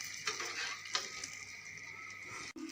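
Pakoras frying in hot oil in a kadhai for kadhi, a steady soft sizzle with a few light stirring clinks, fairly quiet and close.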